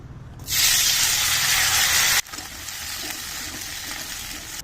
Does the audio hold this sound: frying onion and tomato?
yes